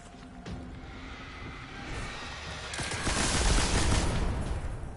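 A heavy machine gun fires in the video game Destiny on PS4, with bursts building into a dense, loud roar of rapid shots over a rumbling game background.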